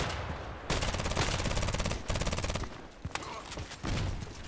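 Rapid HK USP pistol shots in the shooter game Contract Wars, fired in loud bursts of closely spaced cracks with short pauses between volleys and no talking.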